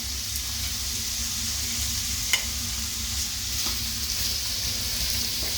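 Beans sautéing in a hot pan, a steady close sizzle with a few faint clinks from stirring and no talking.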